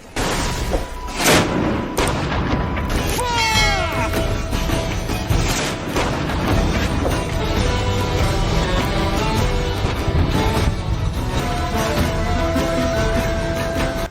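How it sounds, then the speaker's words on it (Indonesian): Loud, dense rumbling booms and crashes of heavy cannon fire at sea rolling on continuously, with a brief whistling streak early on and dramatic music layered throughout. "Meriam-meriam segera diarahkan dan dalam hitungan detik, dentuman ledakan memenuhi lautan"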